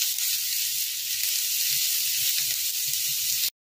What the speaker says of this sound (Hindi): अब हम इसमें डाल देते हैं ये बारीक कटा हुआ प्याज, और इसको भी हम अच्छे से भून लेंगे।